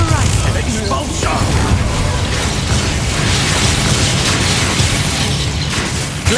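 Spell explosions from the Expulso charm in Hogwarts Legacy burst amid a dense, continuous wash of loud combat effects, booms and pops layered with a voice casting spells.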